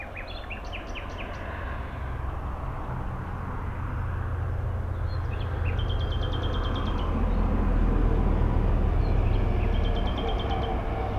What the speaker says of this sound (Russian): Слушаем птиц.